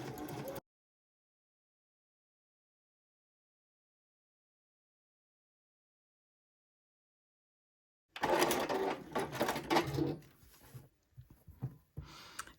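A sewing machine stitches through the thick center of a Diamond Ohio Star quilt block seam in short bursts of mechanical whirring. A brief burst opens, then a long silence follows, then a louder stretch and a few scattered bursts near the end.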